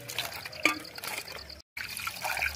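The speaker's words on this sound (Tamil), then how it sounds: "தண்ணியில் விட்டு நல்லா கழுவிக்கணும்" Food being washed in water by hand in a home kitchen, with faint close splashing, trickling and dripping in short bursts and a brief gap partway through.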